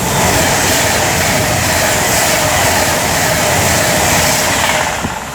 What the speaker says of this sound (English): here we have 390-005 passing by for Avanti West Coast, working 1 Foxtrot 26 from London Euston to Liverpool Lime Street